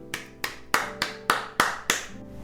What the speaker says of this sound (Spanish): ahí nosotros debemos darle un aplauso al Señor